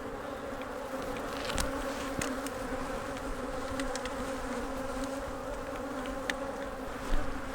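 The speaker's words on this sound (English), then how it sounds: "It's got plenty of guard bees there." Honey bees swarm around a hive entrance during a fall honey harvest, giving a continuous close buzzing hum with individual insects darting past the microphone now and then.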